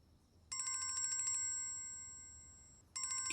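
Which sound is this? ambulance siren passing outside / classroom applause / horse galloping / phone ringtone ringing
phone ringtone ringing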